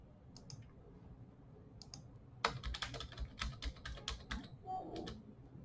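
HTML and CSS code is typed on a computer keyboard, with a few scattered key taps and then a faster run of close, crisp clicks in a quiet room, with no speech.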